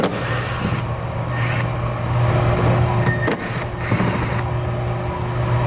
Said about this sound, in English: We'll be using a T25 Torx bit to pull those out.